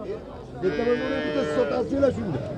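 A cow moos loudly and close at a busy livestock bazaar in Nookat, Kyrgyzstan, with one long drawn-out low call. Crowd voices murmur beneath it.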